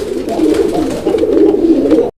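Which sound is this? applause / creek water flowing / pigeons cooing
pigeons cooing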